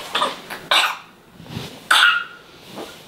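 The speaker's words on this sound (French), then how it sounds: "Oui, il tousse vraiment." A congested young child coughing with a chest rattle: four or five short, harsh cough bursts spread over a few seconds, fairly close and moderately loud, with no speech over them.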